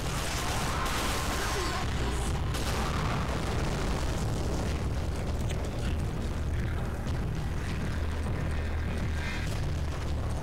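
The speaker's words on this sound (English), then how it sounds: "these gunshots are coming from behind" In Resident Evil 5 gameplay, dense booming gunfire and explosive blasts roll continuously from behind, loud and chaotic, with bursts layered over a heavy low rumble.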